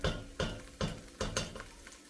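Garlic sautéing in a pan, a soft sizzle broken by rhythmic scraping strokes of stirring, about five or six close, regular pushes across the pan with no talk.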